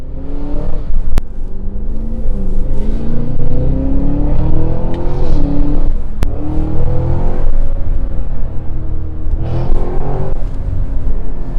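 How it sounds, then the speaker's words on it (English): Cadillac Escalade V-Blackwing three-row SUV with its engine revving hard while driving, a loud, continuous roar rising and falling through gear changes, heard from inside the cabin with no talking. "This is a 3-row SUV making that sound."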